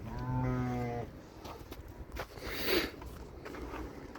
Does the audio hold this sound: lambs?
yes